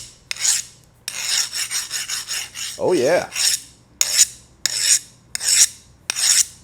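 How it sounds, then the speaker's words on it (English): A metal file rasps in repeated short, harsh strokes across a hardened steel Bowie knife blade made from an old rasp, loud and close with brief gaps between strokes; someone speaks briefly midway. "File skating over the steel means that baby is hard."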